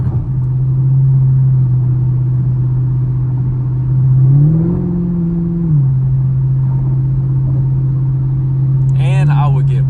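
A car, probably an SRT Jeep, drives with a steady low engine drone that rises in pitch briefly as it speeds up, then settles back, with a voice heard near the end.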